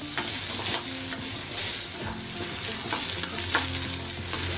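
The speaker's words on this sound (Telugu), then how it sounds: "కొంచెం పచ్చివాసన పోయేదాకా ఫ్రై చేసుకుంటే బాగుంటుంది." Ginger frying in a pan for chutney, a steady continuous sizzle with occasional stirring scrapes and clinks, close and fairly loud, no voices.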